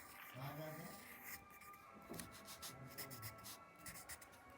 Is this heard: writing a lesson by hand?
yes